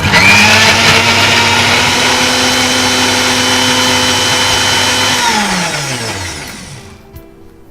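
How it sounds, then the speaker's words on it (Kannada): Mixer grinder blending cooked dry chillies into a fine paste for a crab tomato sauce, a loud steady whirring motor that runs continuously, then winds down and stops near the end. "So will grind this."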